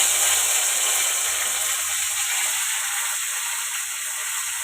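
Greens dropped into hot oil in a wok hiss and sizzle steadily. The bright, even crackle stays close and fairly loud, then eases slightly toward the end.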